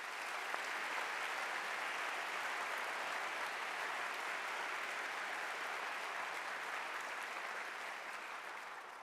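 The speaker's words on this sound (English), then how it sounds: "A round of applause for Anne Murphy." Steady applause from a large lecture audience, sustained and even throughout, with a slight fade near the end.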